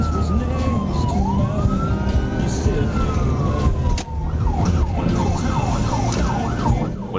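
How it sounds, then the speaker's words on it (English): Arkansas State Police patrol car siren during a traffic stop pursuit on a highway, a long rising and falling wail that switches to a fast repeating yelp, loud and close over engine and road rumble. "When Plyler briefly activated his hazard lights and siren, the driver slowed as if intending to stop"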